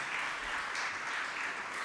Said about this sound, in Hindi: हम ज़ोरदार तालियों में अपनी सारी ख़वातीन को बहुत बहुत मुबारकबाद देते हैं